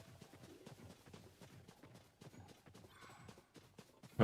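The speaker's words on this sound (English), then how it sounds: "somebody's trucking along on a horse" Horse hooves clip-clopping at a steady trot in Zelda: Tears of the Kingdom, a rhythmic run of soft thuds on open ground, fairly quiet, ending in a louder sudden hit.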